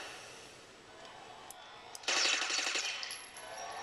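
Burst of rapid automatic gunfire from combat training robots in the sci-fi shooter Interstellar Marines, erupting loudly after quiet ambience and rattling on for over a second before tapering.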